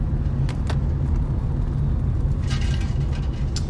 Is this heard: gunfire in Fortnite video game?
no